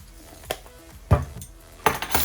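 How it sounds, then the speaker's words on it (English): A fork clinks against a bowl while mixing wet ingredients for biscotti, a few sharp isolated taps and scrapes spaced irregularly, close and fairly quiet. "you just want to combine it with a fork and get it all mixed together"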